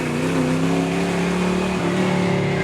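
A stripped-out Ford Mustang Foxbody drift car with a 5.0L V8 holds a loud, steady rev, a dense rumbling drone heard close and continuous throughout.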